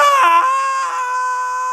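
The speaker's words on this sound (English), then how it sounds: "where Henry screams his head off." A man screams in the 1931 film Dr. Jekyll and Mr. Hyde, a loud, sustained, anguished cry that wavers in pitch and then holds on a strained tone.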